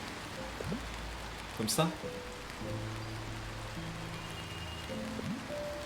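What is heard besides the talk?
rain falling in the video game Until Then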